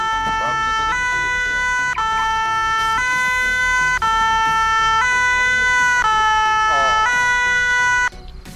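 Fire engine siren wailing loudly and close as firefighters arrive, a two-tone hi-lo pattern switching roughly every second, steady and dominant before cutting off at the end.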